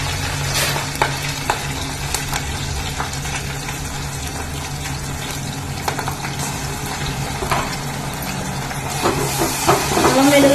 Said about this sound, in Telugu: అల్లం వెల్లుల్లి పేస్ట్ పచ్చివాసన పోయే వరకు ఫ్రై చేసుకోవాలి.